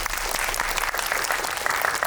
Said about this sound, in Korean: 박상현 작가님께 크게 박수 한번